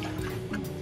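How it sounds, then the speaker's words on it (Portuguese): Milk being poured into a cooking pan, a short continuous liquid trickle and splash, close and steady, with no talking. "Adicione na panela o leite"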